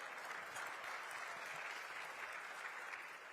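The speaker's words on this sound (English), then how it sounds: "give yourselves a round of applause" Audience applause fills the room at morning gathering, a dense, sustained wash of clapping from many hands, steady and fairly distant, without speech over it.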